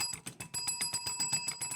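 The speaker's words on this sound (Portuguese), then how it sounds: "Você vai bater o sininho de novo." A small bell is rung rapidly over and over, its bright metallic dings coming in a steady, quick rhythm, loud and close with no talking.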